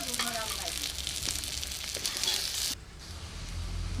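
Potatoes with red chili, ginger and garlic fry in a hot pan with a steady, close sizzle that drops off abruptly, leaving a quieter hiss and low rumble.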